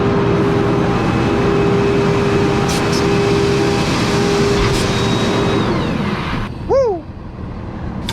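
A rented dump truck drives along with a steady engine drone and road rumble, its tone holding even before fading slightly; a brief squealing tone sweeps up and down near the end.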